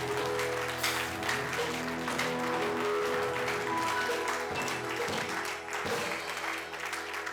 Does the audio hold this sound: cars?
no